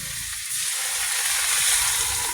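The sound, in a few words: water poured into a hot frying pan while cooking fish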